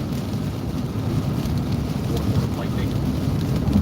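A severe QLCS thunderstorm line sweeps through with heavy rain and gusty wind, a loud, dense and continuous roar with deep low rumbling of thunder underneath.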